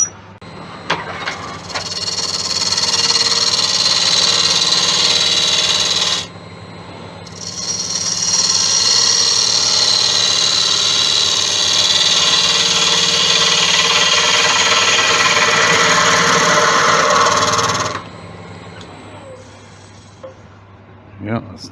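A wood lathe turning monkey puzzle wood makes a loud, steady machine whine with grinding cutting noise for several seconds, stops briefly, then resumes at length before cutting off, with brief sounds at the end.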